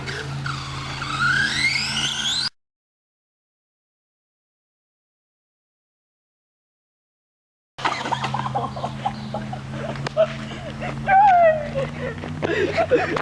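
An RC car revs and skids with a whirring electric motor and scrabbling tires, in two bursts separated by several seconds of silence, while voices talk over it.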